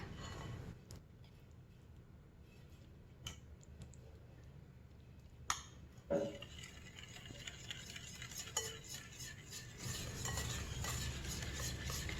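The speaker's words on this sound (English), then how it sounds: "Whisking it like this gets some air into it." Pumpkin pie filling with eggs is whisked in a bowl, giving quiet, steady scraping and light clicking that grows louder and denser toward the end, with no voices.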